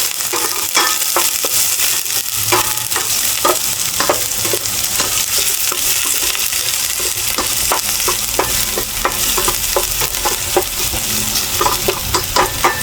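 Onion and garlic sautéing in a hot pan, a loud continuous sizzle with frequent rhythmic scraping and clacking of a spatula stirring throughout.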